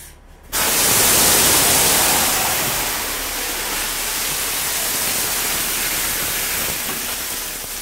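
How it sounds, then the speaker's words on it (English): Half a cup of water thrown onto a grease fire in a kitchen sets off a sudden, loud, roaring burst of hissing noise that holds steady and then eases slightly. "We're going to actually see what happens when we throw a half a cup of water on a grease fire."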